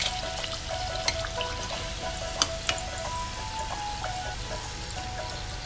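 Kachoris deep-frying in hot oil give off a steady bubbling sizzle with scattered crackles and a few sharp pops, close by and moderately quiet, with no voices.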